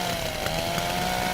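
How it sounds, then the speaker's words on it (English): A steady, loud chainsaw whine in the Little Inferno video game, running without a break as it shreds burning items in a fireplace. "And the chainsaw part just obliterates everything"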